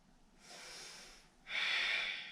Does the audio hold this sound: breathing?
yes